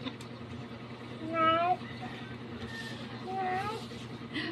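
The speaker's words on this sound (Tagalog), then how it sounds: "Mura ni yung pusa guys, kumakain kamuting kahoy." A cat meows twice while eating cassava after a typhoon, each meow a short rising-falling cry, close and moderately loud over a constant low hum and background noise.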